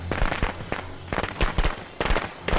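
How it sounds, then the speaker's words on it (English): Firecrackers in Friday The 13th: The Game go off in rapid, loud crackling bursts, several clusters of sharp pops separated by brief gaps. "I didn't aim those firecrackers very well."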